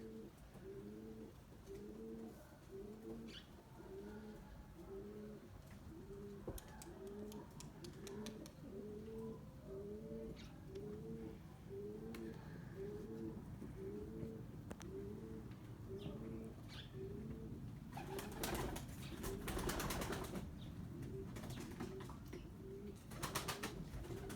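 Pigeons coo steadily in a coop, a rhythmic train of soft, throaty calls repeating close by for the whole stretch, with a brief burst of rustling or wing noise near the end.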